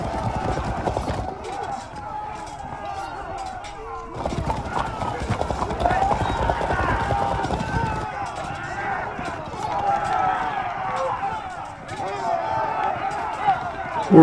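Galloping horse archers in the medieval strategy game Field of Glory II Medieval, a dense clatter of hooves with horse whinnies, continuous and loud over the whole stretch, with a voice talking over it.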